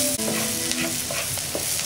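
Idiyappam upma is stirred in a pan with a spoon, with close scraping strokes over a steady sizzle of frying.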